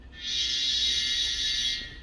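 An ESU LokSound decoder horn in a Kato N-scale Amtrak P42 model locomotive holds a steady electronic tone for nearly two seconds, bright and buzzy, starting and stopping cleanly with no other sounds around it.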